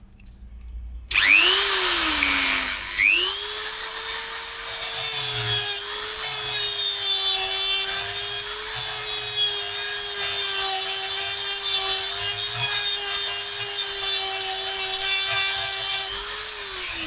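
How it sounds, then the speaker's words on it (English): A power drill whines loudly at a steady pitch, drilling out a stuck part during a repair, grinding into material for a long continuous run after a brief start-up. "But I end up having to drill this one out."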